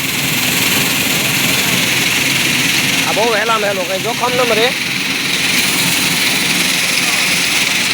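A mini tractor with an opener attached runs nearby, a steady engine drone throughout, while someone talks over it briefly in the middle.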